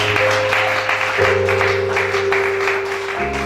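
A church congregation in Gabon applauds steadily through a worship service, a dense, continuous clapping that sits over sustained keyboard chords. The chords change twice, and no one speaks.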